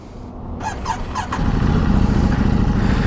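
A Ducati Desert X motorcycle engine cranks with a few short bursts, then catches and settles into a loud, steady idle rumble.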